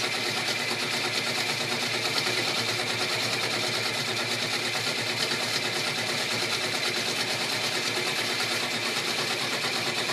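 An embroidery machine stitches out a 3D troll girl peeker appliqué, a continuous fast mechanical whirring and rattling. It holds steady, close and loud throughout, with no talking.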